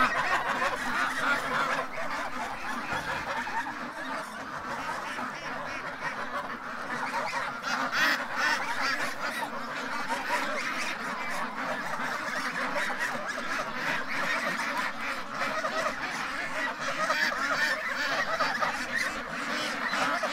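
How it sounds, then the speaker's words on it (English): Big geese honking continuously outdoors, a dense flock of overlapping calls at moderate volume with no talking. "That's a big goose."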